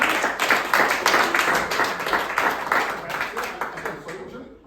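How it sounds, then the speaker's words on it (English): Audience at a close-up magic show applauding a volunteer as she comes up, a brisk, fairly close burst of many hands clapping that holds steady for several seconds before tapering off. "Give her a big round of applause."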